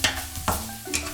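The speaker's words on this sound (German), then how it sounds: "Wieder ein Schuss Öl in die heiße Pfanne. Lauchzwiebel, Ingwer und Knoblauch anbraten." Spring onion, ginger and garlic frying in oil in a hot pan, a short burst of sizzling broken by a few sharp stirring scrapes, close up and with no voices.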